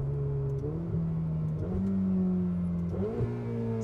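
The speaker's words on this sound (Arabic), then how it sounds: "اسمع الصوت الداون شيفت يا اخي، خطير خطير" A 2016 Ferrari 488 Spider drives while its engine drones steadily and blips through several downshifts, with the pitch dropping and jumping at each change. The sound is moderately loud and comes from inside the car.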